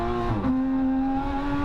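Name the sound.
Porsche GT3 engine on track at Streets of Willow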